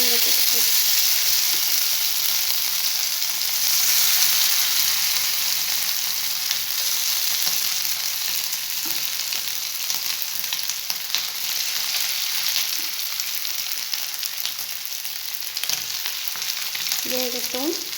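Mashed potato for crispy potato cutlets frying in a pan on lowered heat, a loud continuous hiss of sizzling oil with a few faint stirring scrapes, close up and without talk.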